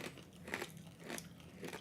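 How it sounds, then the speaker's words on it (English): Hard corn nuts are chewed up close, giving quiet, uneven crunches and grinding bites that repeat a few times, with no talking. "I'm just chewing on regular hard corn"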